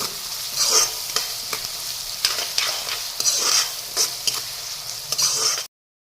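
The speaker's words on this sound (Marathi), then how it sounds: "आता आपला कांदा चांगला भाजून झालेला आहे।" Onion with salt frying hard over a high flame, stirred repeatedly so sizzling mixes with rhythmic scraping strokes, loud and close, before an abrupt cutoff near the end.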